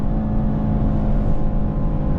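A 2026 Mercedes GLE 63 S AMG cruising on the German autobahn, its engine giving a steady, deep droning hum inside the cabin, loud and constant with a low, rich tone and no speech.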